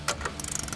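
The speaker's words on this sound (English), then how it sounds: "you can take an 18mm ratcheting wrench" An 18mm ratcheting wrench works nuts off studs on a 2014-2018 Silverado 1500 front upper control arm, a quick run of close, light ratchet clicks in a fast even rhythm.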